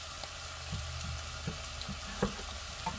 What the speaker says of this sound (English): We're going to throw the chopped up apples in here